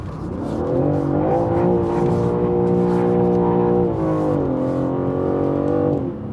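A BMW M3 Competition G80 drifts with stability control switched off, its engine holding a loud, steady high-revving howl that dips briefly and climbs again over about six seconds, with no talking.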